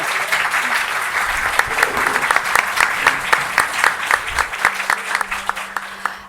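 A seated audience at a Spanish manga panel with publishers applauds the guests. The clapping is brisk and fairly close, then thins out toward the end.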